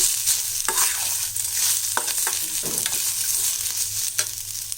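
Mint leaves sizzle and crackle in a hot pan for chutney, with scraping stirs and occasional sharp taps of a utensil, close and steady.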